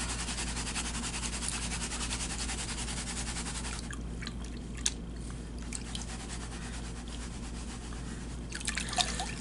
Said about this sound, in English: This is easy panning this size for the simple fact that the gold is so heavy, it's not going anywhere out of this pan.